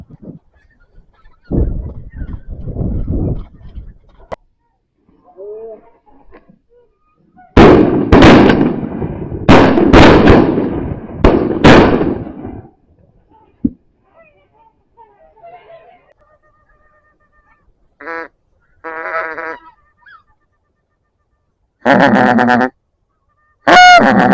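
Wild geese honk in scattered calls over an Elbe river floodplain during a goose hunt, with several loud sharp shotgun blasts clustered in the middle, some low indistinct noise, and further honking near the end.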